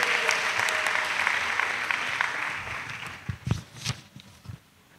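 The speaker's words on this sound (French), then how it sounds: "Maintenant, on peut acclamer Jésus-Christ." Crowd applause at an annual missionaries' church retreat in Côte d'Ivoire fills the first few seconds, then thins into scattered claps and a few louder bursts before fading away.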